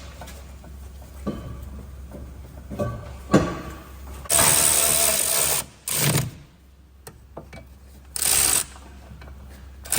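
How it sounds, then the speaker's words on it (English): Socket wrench with an E12 socket bolting the rear brake pad carrier back onto a Ford Focus RS Mk III, heard as a few ratchet clicks followed by loud sustained bursts of mechanical whirring, close up and without talk. "And bolt back on the carrier using E12 socket again."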